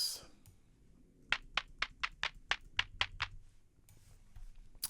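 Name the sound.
generated clap sounds from Ableton Live clap machine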